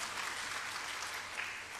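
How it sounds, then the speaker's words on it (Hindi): An audience at a Delhi University event organised by the Dainik Jagran group breaks into a brief, vigorous round of clapping, a continuous close wash with no speech over it. "एक बार जोरदार तालियां"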